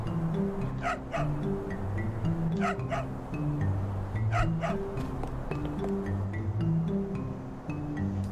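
Repeated sharp dog barks from the video game Trials of Mana come in short bursts of two or three, over a steady musical background with no talking.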